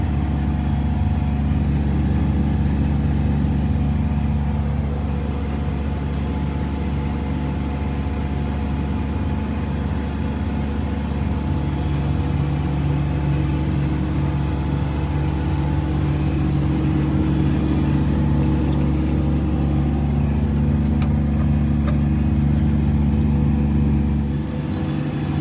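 A tractor or farm vehicle drives steadily through a field while seeding canola in muddy conditions, its engine giving a continuous, fairly loud low drone with no breaks for the whole stretch.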